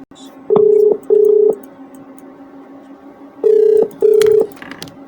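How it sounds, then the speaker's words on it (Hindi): Telephone call placed during a live Hindi public-grievance TV show: two pairs of steady ringback tones repeat with pauses between them, over faint background room noise. "ठीक है, घंटी जा रही है,"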